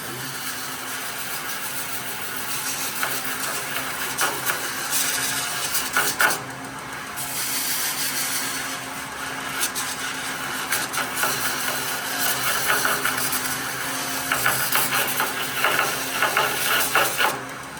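Highland Park lapidary wet belt sander running steadily with a constant motor hum, broken by rough rasping and grinding bursts as material is pressed against the belt.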